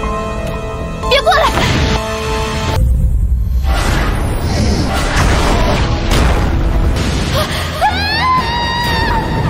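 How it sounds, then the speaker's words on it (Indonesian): Blast of light tearing apart a place in an animated donghua fantasy, a loud rumbling boom with bursts and debris under dense music and effects, followed by rising tonal swells and a brief cry. "tiba-tiba Sulo terpleset dan ada suatu cahaya yang meledakkan tempat tersebut"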